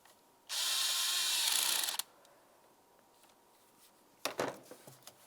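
A power driver whirs steadily for about a second and a half, tightening an 8mm-headed clamp on the air inlet of a 2003-2011 Mercury Grand Marquis throttle body, followed after a pause by a few sharp clicks and taps close by.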